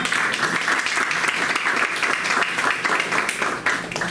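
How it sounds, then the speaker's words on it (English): A crowd at a school board meeting applauds steadily, dense clapping filling the whole stretch at an even, fairly loud level with no pause. "let's have a little bit of round of applause for that"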